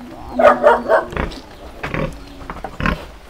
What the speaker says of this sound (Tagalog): Ayan ang biik, oh.